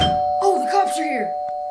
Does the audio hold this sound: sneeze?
no